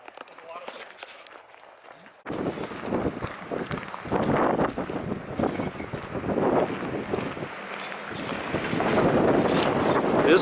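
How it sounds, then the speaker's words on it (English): Strong outdoor wind buffets the microphone in loud, uneven gusts that rise and fall, with bursts of rustling and a brief near-quiet start before the wind hits. "It is windy as crap out here."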